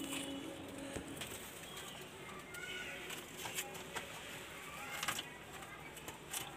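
Soft Madras pigeon cooing sits amid a busy background of rustling and clicks, with low murmurs of people nearby.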